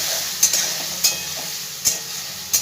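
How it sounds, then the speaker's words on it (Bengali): Ginger paste and spices fry in a pan with a steady sizzle while a spatula scrapes through them in a few distinct, regularly spaced strokes, close and fairly loud. "একটু ভালো করে ভাজা ভাজা করে নেবো একসাথে মশলাটা।"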